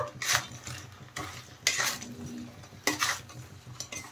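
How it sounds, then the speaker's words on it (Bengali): Fried cauliflower pakoras being stirred into Manchurian gravy in a pan, with a few scraping, clattering strokes of a utensil against the pan and a soft sizzle underneath, close and fairly quiet. "এখন আমি এর মধ্যে দিয়ে দেব ভেজে রাখা ফুলকপি পকোড়াগুলো, দিয়ে ভালো করে নেড়ে চেড়ে মিশিয়ে দেব"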